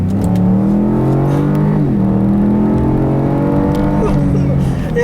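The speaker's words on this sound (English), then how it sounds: "I'll leave you guys with a nice little acceleration here, like I always do." Ford 2.7 liter twin turbo EcoBoost car accelerating hard in sport mode from inside the cabin, engine tone climbing steadily, dipping at a gear change and climbing again, loud and close with a voice speaking over it.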